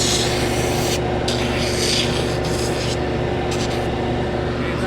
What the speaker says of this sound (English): He's sanding the heel down.